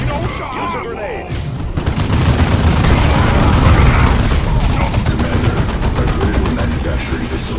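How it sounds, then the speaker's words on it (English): Battle noise in Warhammer 40k Dawn of War II: a sudden heavy grenade blast gives way to dense, sustained gunfire and booming impacts, loud and continuous for several seconds. "Use a grenade!"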